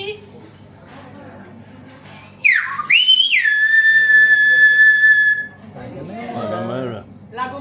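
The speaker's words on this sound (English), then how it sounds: "going to whistle some names of the Canary Islands" A human whistle renders the name of the Canary Island La Gomera, a loud sliding then long sustained high whistled tone that stands alone, with soft voices talking before and after it.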